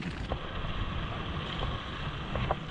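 Steady wind rushing and buffeting against the microphone near Lago del Restello, a constant broadband roar with a few faint thin tones poking through.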